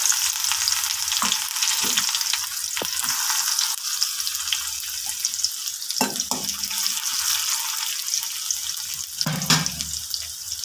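Mustard seeds and shallots fry in hot oil with a constant close hiss, broken by scattered pops and spits and a few utensil knocks.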